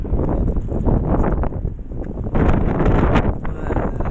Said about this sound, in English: It is also very windy, so I guess that ups the dramatic factor.